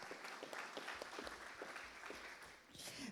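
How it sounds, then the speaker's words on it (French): Audience applause at a French public-policy conference session, a fairly faint, steady patter of clapping from a room crowd that runs throughout with no speech over it. "on peut l'applaudir"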